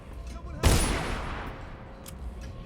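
A single sharp gunfire volley from a firing squad in Dishonored cracks out loud and close, then a reverberant tail fades over a second or two against a quiet room tone.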